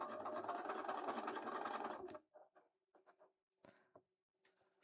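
A sewing machine with a jumbo bobbin stitches in a fast, steady whirring run for about two seconds, close and clear, then stops, followed by a few faint clicks and handling sounds of fabric and parts.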